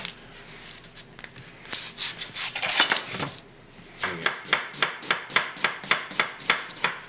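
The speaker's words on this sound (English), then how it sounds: "I'm going to go ahead and cut this onion up real quick here." Knife chopping an onion on a cutting board in a kitchen: scraping and rubbing at first, then a steady run of about a dozen evenly spaced, crisp chops close to the mic.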